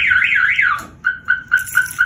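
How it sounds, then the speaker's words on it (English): A Jeep's car alarm, set off by its glass-break sensor, blares loud and close: a rapid warbling siren sweep, then a series of repeated short electronic beeps alone. "Like if they hit the glass, and then the alarm sounds. So there's an alarm on that Jeep."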